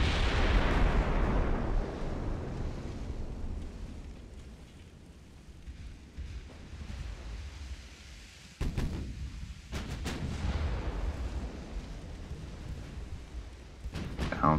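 Heavy naval gunfire booms and rumbles in Ultimate Admiral: Dreadnoughts, with a loud opening blast fading into a sustained low roar, then sharp salvo cracks around the middle and again near the end.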